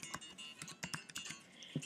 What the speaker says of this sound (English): you will type that temporary password where the cursor is blinking